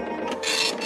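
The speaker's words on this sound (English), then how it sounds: "There also seems to have been a recurring issue on the set with printer noise." Printer noise on a movie set: a faint mechanical whir with brief rising hiss bursts as the machine runs, heard alone without speech.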